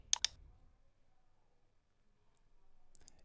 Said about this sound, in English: And you click on OK.